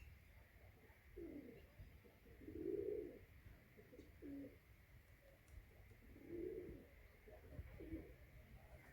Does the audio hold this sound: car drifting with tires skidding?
no